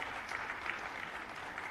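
Steady audience applause at a state-level wildlife week award ceremony, dense clapping filling the hall throughout without pause.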